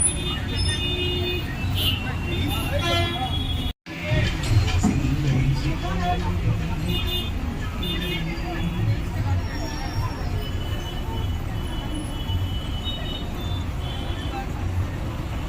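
Heavy road traffic and a milling crowd near the Tiruvannamalai temple during Maha Shivaratri, a constant dense roar of engines and babble with horns, under a voice.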